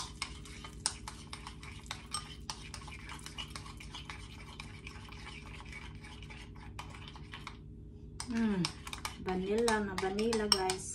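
Ube mixture being stirred in a bowl, a steady faint scraping and clinking of utensil against the bowl that runs continuously, with a brief pause near the end before a voice speaks over the last few seconds.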